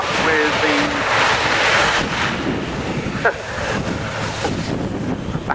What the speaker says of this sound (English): it's pretty manoeuvrable on the ground as well, into reverse pitch and backing